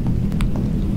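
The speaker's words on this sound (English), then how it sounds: "the ambient sound, the SFX of this storm is really scaring to me." Storm ambience from the video game Heat Death: a steady low rumble of wind and rain with faint scattered patter, heard briefly and alone.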